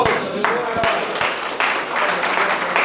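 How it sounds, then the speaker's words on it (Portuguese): A church congregation at a Portuguese-language service applauds, the clapping blending with voices in a full, reverberant hall. "Palmas para Jesus."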